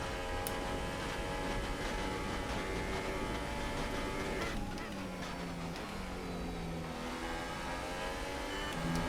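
F1 car engine in the F1 2018 racing game, a high-pitched whine that holds steady and then drops as the car shifts down, with a voice speaking over it.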